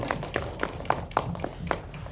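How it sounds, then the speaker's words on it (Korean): A small audience at an indie film talk event claps together in a steady, even rhythm, moderately loud and without voices over it. "같이 박수 칠까요?"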